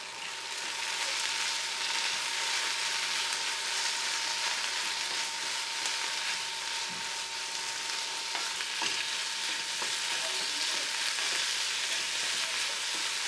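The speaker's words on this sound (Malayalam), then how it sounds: "കറിവേപ്പില ആഡ് ചെയ്ത് നന്നായിട്ടൊന്ന് മിക്സ് ചെയ്യാം" Mushroom roast with curry leaves sizzles steadily in a pan while being stirred, a constant frying hiss with occasional scraping clicks of the spoon, close and alone with no voices.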